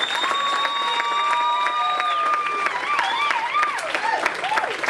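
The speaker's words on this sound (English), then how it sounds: "Let's give her a round of applause and bring her on." An audience at an evening charity show applauds to welcome a performer onto the stage, the clapping sustained under bright music with tonal lines, with a few voices calling out.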